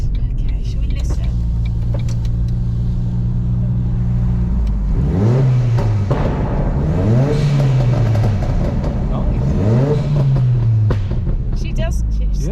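Restored Mk1 Ford Focus RS rally-style car on Pirelli tyres, engine idling steadily then blipped through three sharp rising revs that fall back to idle, close and loud, with people talking.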